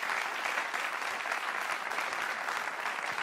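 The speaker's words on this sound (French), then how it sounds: "que je demande d'applaudir, s'il vous plaît" An audience at a hospital-sector event applauds guests, a steady, moderately quiet wash of many hands clapping without pause.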